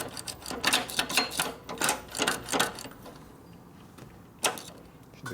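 Mechanical clicks and clunks come from working the gear shifter on a 1973 Harley-Davidson Shovelhead 74ci bobber, a quick series of close knocks followed by a pause and one sharper clunk.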